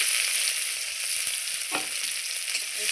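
Dried red chilli, nigella seeds, crushed green chilli and crushed garlic sizzle steadily in hot oil for tempering, a continuous bright frying hiss with a few faint stirring clicks, close and alone.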